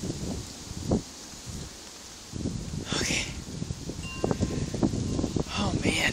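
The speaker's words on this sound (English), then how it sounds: "I'm getting wind." Wind gusting into a microphone outdoors during a cold thundersnow shower, a soft rumbling buffet that swells and fades in irregular bursts, with a person's voice and breathing faintly mixed in.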